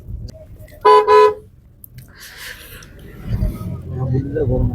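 A car pulling out of a parking area at the Malegaon fair, with a loud double horn toot near the start, then a rising engine and road rumble as it moves off. People talk over it.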